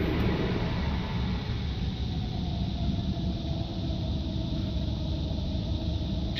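A boat engine driving the propeller gives a steady, low, continuous rumbling drone with a broad wash of noise, with no pauses and no voices.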